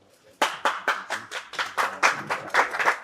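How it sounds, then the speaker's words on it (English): Small audience at a film-festival screenwriting masterclass claps to welcome two speakers, a few hands striking in distinct, uneven claps close by, starting abruptly after a quiet moment. "welcome both with a loud applause"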